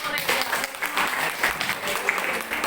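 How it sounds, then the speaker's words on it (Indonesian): A burst of clapping from a group of people at a classroom teaching observation session, steady and fairly close, lasting a few seconds. "Sebelumnya kasih tepuk tangan dulu."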